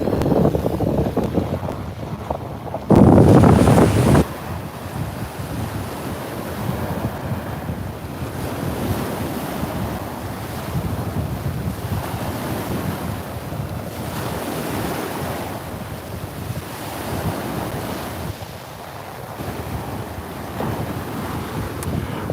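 Rough Baltic surf on the west coast beach of Fehmarn, Germany: a continuous loud roar of breaking waves with heavy wind buffeting the microphone, and a brief louder gust burst near the start. No voices.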